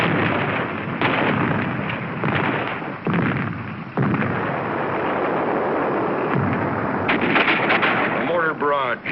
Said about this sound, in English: A mortar barrage searches out hidden machine gun nests.